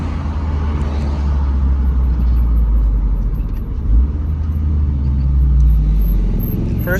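2015 Scion tC with a Torque Solutions front motor mount, engine idling with a low steady rumble heard from inside the car, loud and continuous with a slight bump midway.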